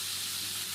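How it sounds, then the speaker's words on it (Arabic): Spiced meat sizzles as it browns in a pan, giving a continuous, steady hiss that stays close and fairly loud throughout. "ونحمرها شوية لغاية ما تاخد لون"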